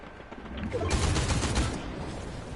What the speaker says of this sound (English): I'm shooting you through that fence